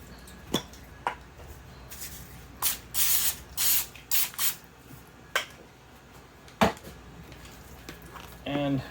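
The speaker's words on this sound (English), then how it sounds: "Spray your parchment." Cooking spray hissing onto parchment paper in a kitchen: a series of short, close, sharp spray bursts, some quick and some longer, separated by brief pauses, with faint handling noises and a voice near the end.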